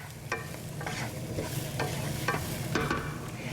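Garlic sizzles in a one-pot skillet of sausage, corn and orzo, a close frying crackle broken by regular scraping stirs about every half second.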